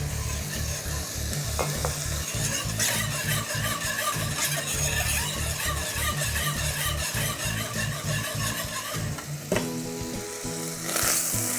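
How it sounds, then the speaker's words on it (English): Meat and onion frying in a pan while being stirred constantly, a loud steady sizzle with rhythmic scraping and wooden knocks close up, no talking. "Keep on stirring constantly your meat because you want the onion to brown"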